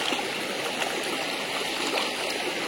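Cold river stream on the Rishi river in Sikkim, water rushing and burbling close by in a continuous, fairly loud wash with no clear speech.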